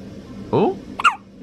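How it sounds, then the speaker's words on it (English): A newborn baby girl gives a couple of short, close hiccups, a sharp squeaky burst followed a moment later by a higher one, over a quiet room hum. "I want to hear hiccup."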